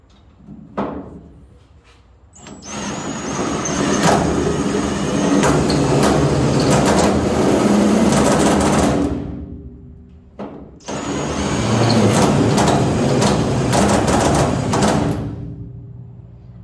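A power drill whines loudly and steadily in two long bursts, each several seconds, while drilling out spot welds on the rear quarter panel of a 1972 Blazer, with brief pauses between.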